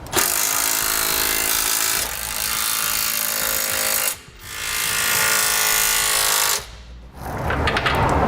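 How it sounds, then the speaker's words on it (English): Trailer hitch bolts on a 2017 Chevrolet Express being snugged down with a 3/4 inch socket on a power tool, three loud sustained bursts of whirring and rattling separated by brief pauses, close up with no talk. "we'll snug down all of our hardware with a 3/4 inch socket"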